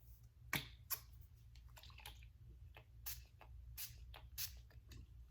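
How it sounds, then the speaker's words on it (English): Several short, quiet hissing spritzes from a spray bottle come in separate bursts, with soft handling noises between them. "Oh, actually, setting spray."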